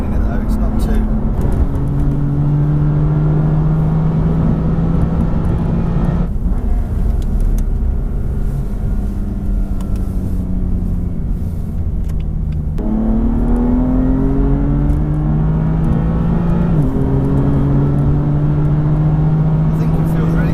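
A 2017 BMW M4 CS engine pulls strongly through several gears, each rising drone broken by brief shift dips, heard from inside the cabin as a steady loud roar under conversation.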